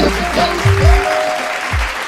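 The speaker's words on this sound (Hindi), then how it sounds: "जोरदार तालियों के साथ स्वागत कीजिए मध्य प्रदेश के मुख्यमंत्री शिवराज सिंह चौहान" Applause at a Rising Madhya Pradesh stage event welcoming Madhya Pradesh chief minister Shivraj Singh Chauhan, a steady wash of clapping under some tonal music and brief low thumps, loud and close.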